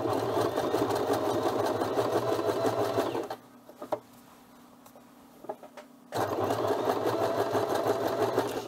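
A sewing machine stitching a fabric sleeve seam for an animatronic Grogu costume runs loud and close with a rapid steady whir, stops for a few seconds of quiet with light handling clicks, then starts again.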